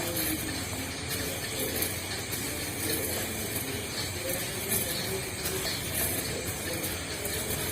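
A mixer grinder grinds rice in a large jar. It makes a steady, dense whirring and rattling grind that runs evenly for the whole stretch.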